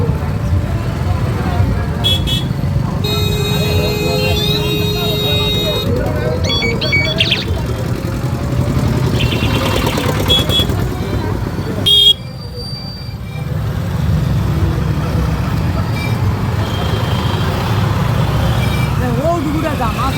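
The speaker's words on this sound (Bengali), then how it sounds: "দেখো বেরিয়ে রাস্তাতে জ্যামের মধ্যে পড়ে গেছি" Traffic jam on a busy road during the Vishwakarma Puja festival in Haldia, with car and vehicle horns tooting in short bursts over a steady rumble of engines, and people talking nearby.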